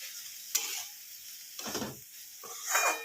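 A spatula scrapes and tosses mixed fried rice around a hot pan in a few separate strokes, with soft sizzling and clinking between them, close and fairly quiet with no talking.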